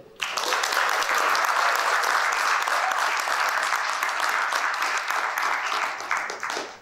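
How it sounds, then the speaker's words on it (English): An audience at a high school IGCSE graduation ceremony applauds the graduating students, dense sustained clapping from a large crowd that starts abruptly and holds at a steady level before fading at the end. "Big clap to them."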